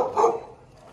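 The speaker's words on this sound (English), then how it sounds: "Big dog." A big dog gives a single short bark in a quiet, half-deserted small town in Perak, Malaysia, one clear woof at moderate distance that fades quickly.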